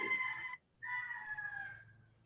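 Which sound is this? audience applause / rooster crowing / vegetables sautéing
rooster crowing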